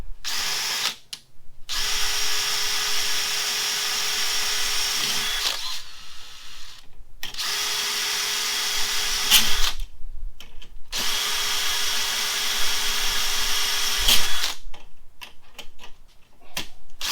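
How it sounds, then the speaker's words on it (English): A power drill whines in several long bursts separated by short pauses and clicks, drilling rivet holes through steel hinges used as a guide in an aircraft spar crack repair, running steadily and close up with no talking. "we can use the steel hinges as a drill guide for those extra rivet holes"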